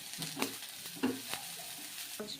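Soya chunks (meal maker) frying in a pan for a tomato curry, with a spoon stirring them through in a few distinct scraping strokes over a soft, steady sizzle, close and moderately quiet.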